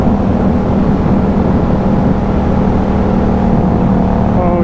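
A Kawasaki ZX6R motorcycle engine runs steadily while riding, a loud, continuous drone with a constant low hum and no talk.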